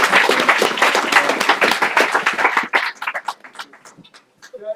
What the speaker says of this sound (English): You can also applaud them